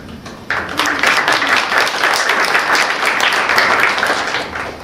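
Applause from a listening audience at a poetry reading in Albuquerque begins abruptly after a brief quiet start, then holds as dense, even clapping, loud and sustained to the end.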